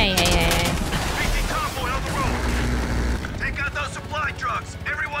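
Rapid automatic gunfire and blasts crackle through a firefight in Call of Duty: Black Ops Cold War, with dense overlapping shots and shouted voices during the first three seconds, then sparser bursts and chatter.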